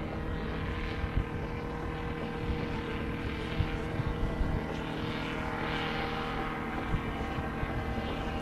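A GX200 Eggmotor paramotor engine running in flight gives a continuous, droning propeller roar at steady power, heard alone throughout.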